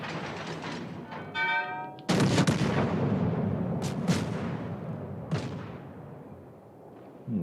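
Heavy warship main battery guns boom in a naval combat video game, a broad rumbling blast followed by further sharp reports and a long decaying roar, close and loud, with no talk.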